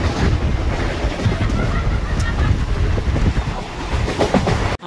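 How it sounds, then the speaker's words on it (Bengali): An express train thunders past a local train halted at a signal on the Howrah to Digha line, a loud, close, continuous rumble with wind buffeting throughout. "পাশ থেকে এক্সপ্রেস ট্রেন আসছে, তাই এটাকে পাস করবে বলে"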